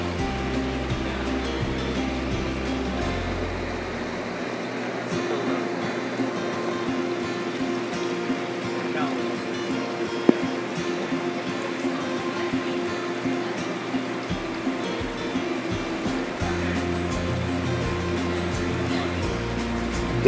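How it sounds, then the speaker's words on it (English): A surge tank wave maker at an aquarium supply shop in Boise flushes water into an aquarium tank, a steady rushing and churning of water that holds for about twenty seconds with a low surge that rises and then drops away. "This is a wave maker at Aquatic Supply in Boise, and we're waiting for it to flush"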